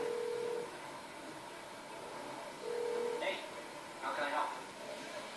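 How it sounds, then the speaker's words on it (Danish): Telephone dialing tones sound while a call is placed: a steady tone at the start, another tone near the middle, and a few brief bursts. A faint background lies under them, and people talk around them. "Nu ringer jeg altså lige til Lester"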